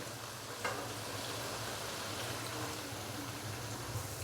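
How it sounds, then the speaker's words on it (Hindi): A chicken and cowpea (lobia) curry is stirred in a pot with about a glass of water added, giving a soft, steady bubbling and wet scraping that runs throughout, with a brief clink of the spoon early on. "थोड़ा मिक्स करेंगे इसको।"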